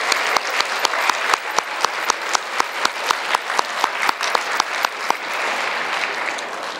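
Crowd at a school awards ceremony applauding steadily, dense clapping with a few sharp louder claps standing out and no talking over it, slowly thinning toward the end.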